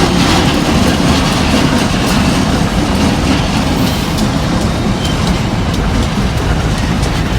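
A freight train rolls past close by, a steady loud rumble with rhythmic clacking of wheels over rail joints, no voices.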